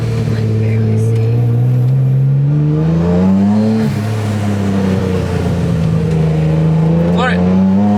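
An RB25 straight-six swapped into a C4 Corvette pulls along a street in first gear, a loud, close, sustained engine drone whose pitch climbs and dips across the whole stretch, with people talking over it inside the car.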